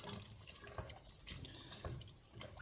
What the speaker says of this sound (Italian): Io tengo altra acqua che ho fatto calda, buttiamo sopra e in cottura